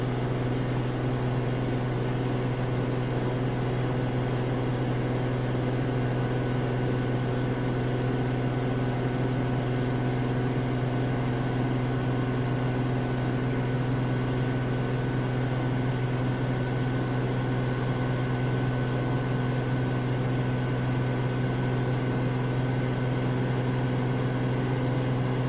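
A Samsung AddWash front-loading washing machine on its spin cycle at 1250 RPM, a steady, fairly quiet drone with a constant low hum and faint whine that holds unchanged throughout, close by with no voices.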